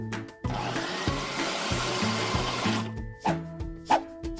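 Dough being mixed in a kids' cooking video game, a cartoonish whirring mixer effect with a choppy repeating pulse, fairly loud and close, followed by a couple of bright chime-like accents, no talking.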